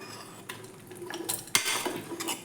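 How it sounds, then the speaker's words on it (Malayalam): Marinated masala chicken is scraped and tipped from a bowl into a pressure cooker, giving close metallic clinks and spoon scrapes that rise into a louder clatter partway through, with no talking. "ചിക്കൻ മസാല പിടിപ്പിച്ച് വെച്ചതെല്ലാം നമ്മൾക്കൊരു കുക്കറിലേക്ക് ഒന്ന് മാറ്റി കൊടുക്കാം"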